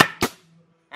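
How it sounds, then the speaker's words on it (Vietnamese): A MAX CN630 coil pallet nail gun firing a single nail: two sharp, close pneumatic cracks in quick succession, then near silence with a faint hiss before another burst begins. "thì anh em bắn một đinh ha, anh em để xuống gì, bóp cò."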